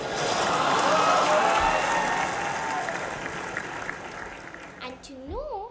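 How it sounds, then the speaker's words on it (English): A crowd breaks into roaring applause, a dense wash of clapping that swells loud, then slowly fades before a short warbling tone closes it out. "Please give a roaring applause."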